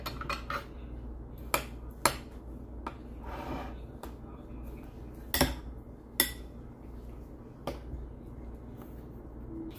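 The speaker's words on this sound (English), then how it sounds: "Now I'm gonna try to mix it." A Fruity Pebbles milkshake is mixed in a lidded container, producing scattered sharp clinks and knocks with softer rattling shakes between them, close and fairly quiet, without talk.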